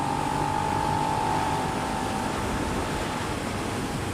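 Suzuki SV650 motorcycle engine pulling hard under throttle in top gear, a steady loud drone with wind rush and a faint rising tone early on, continuous throughout with no talk.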